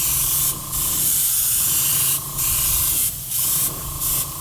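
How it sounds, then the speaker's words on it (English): An airbrush spraying purple paint, heard as several close, loud bursts of hissing air, each lasting about a second, separated by short pauses. "So I got my airbrush all loaded"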